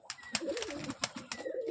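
Pigeons coo and murmur in a series of soft, rhythmic calls at close range while being fed, with small chirps mixed in and no talk.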